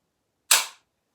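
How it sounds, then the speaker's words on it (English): A single sharp click snaps out as the trigger of a Bergara B14 Ridge rifle is dry fired, a brief crisp mechanical sound in otherwise silent surroundings. "We're going to go ahead and dry fire."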